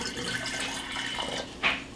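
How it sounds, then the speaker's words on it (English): Water is poured into a glass during an atmospheric pressure experiment, giving a soft, close trickle that ends in a brief louder splash. "So let's add some more water."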